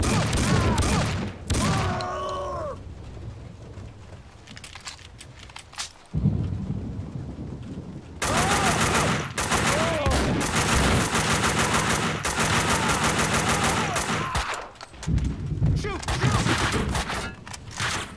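Loud, sustained gunfire in Max Payne 2, dense automatic bursts running for long stretches with brief pauses, some voices breaking in between volleys.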